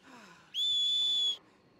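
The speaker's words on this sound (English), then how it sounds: "The horse whistle." Horse whistle in the video game Red Dead Online, a single sharp high-pitched whistle held for under a second, loud and clear against a quiet background.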